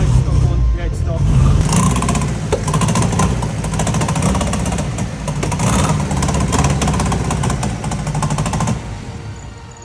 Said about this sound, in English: Although the car was running, it was hunting like a rotary